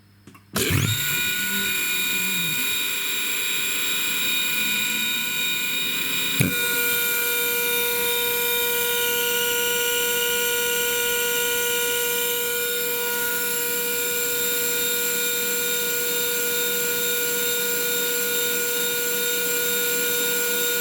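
An ELGI E05en rotary screw compressor starts up with a thump and spins into a steady high whine, then a brief clunk as it loads into a louder, sustained hum.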